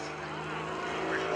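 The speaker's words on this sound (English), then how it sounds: "You can see a lot of vertical activity with this airplane." A 350-horsepower aerobatic airplane performs at the 2012 Greenwood Lake Airshow, its engine and propeller giving a steady, loud drone that swells slightly as it flies through vertical maneuvers.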